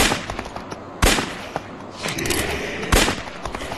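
Shotgun blasts fire at zombies in a cemetery level of a video game, three loud sharp reports spaced a second or two apart over a busy game background.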